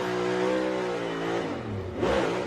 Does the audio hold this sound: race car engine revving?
yes